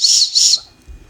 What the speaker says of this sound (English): it's got the fire steel that is also a whistle.